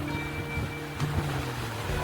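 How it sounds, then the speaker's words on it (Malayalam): Rough monsoon sea at Cherai Beach in Kerala makes a steady, low wash of surf with a brief swell midway, mixed with wind and a faint hum. "ചെറായി ബീച്ച് കടലമ്മ ഇങ്ങനെ കലിതുള്ളി നിൽക്കുകയാണ്."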